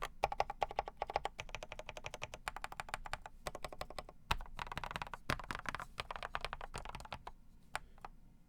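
Keys clack in quick, uneven bursts on an Ikki68 mechanical keyboard, close and fairly quiet, with occasional sharper hollow rattles from the tab key knocking against the plate, and short pauses between runs.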